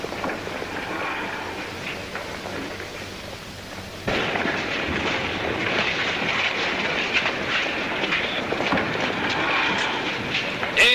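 A light aircraft flown by a pilot named Gordon passes overhead, its broadband engine drone swelling louder partway through and holding steady for several seconds, with voices talking in the background.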